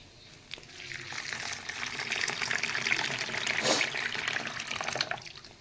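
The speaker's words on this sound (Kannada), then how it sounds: "ಇದಕ್ಕೆ ನೀರು ಹಾಕೋಣ." Water runs into a bowl of washed toor dal and moong dal, a steady splashing pour that swells and churns for several seconds and then tapers off, close by, with no talking.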